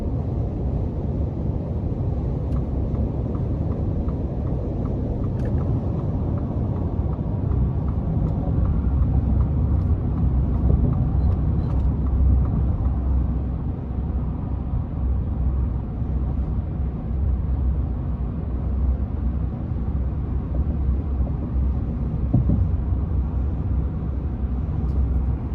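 Inside the cabin of a 2022 Ford F-150 Lightning Pro electric truck on the move, a steady low road rumble and muted wind noise hold at a constant level with no talking.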